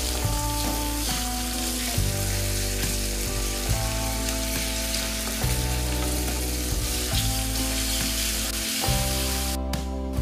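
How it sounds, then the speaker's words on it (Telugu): Ginger garlic paste frying with green chillies in a pan while mutton blood fry is cooked, giving a steady, loud sizzle that runs throughout, with music playing over it. "అందులోనే కొంచెం అల్లం వెల్లుల్లి పేస్ట్ కూడా వేసి పచ్చివాసన పోయేదాకా బాగా వేయించాలి."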